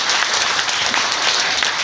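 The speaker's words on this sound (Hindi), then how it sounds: "अब क्यों कंजूस कर रहे हैं ताली बजाने के लिए?" Audience applause in a church in Nagpur, a steady dense wash of many hands clapping at even volume throughout, with no voices standing out.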